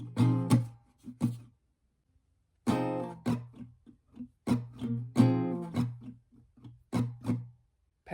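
Acoustic guitar strumming pattern for a song, played as short bursts of chords with brief silent gaps between groups, close and moderately quiet, with no voice.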